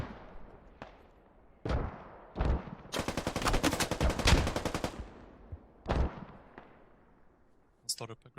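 Gunfire rings out in the military shooter game Squad on the Fallujah map, with scattered single shots, then a dense rapid burst of automatic fire, then a few more isolated cracks, near and loud, with some talk underneath.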